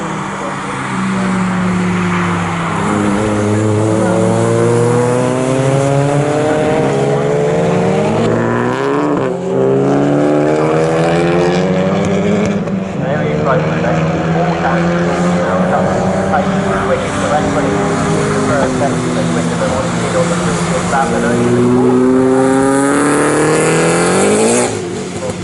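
Honda Civic time attack race car with a K20 engine, its high-revving engine note rising and falling through repeated gear changes as it accelerates and brakes around a circuit, loud and close throughout.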